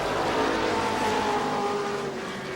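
Race cars roaring as they accelerate off turn four on a restart at New Smyrna's FASCAR oval, a dense, loud blend of engines with rising whine.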